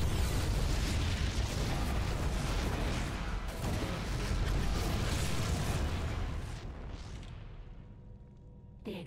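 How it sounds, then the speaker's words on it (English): Dense, continuous rumbling explosions in StarCraft II: Heart of the Swarm roll on for several seconds, then fade toward quieter background noise near the end. "The explosions have stopped."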